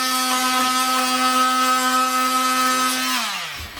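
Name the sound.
oscillating saw cutting flooring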